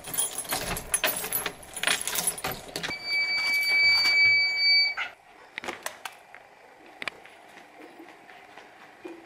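A school security alarm emits a steady high electronic beep tone, accompanied by jingling keys and footsteps, then the beeping stops and quieter clicks and movement follow.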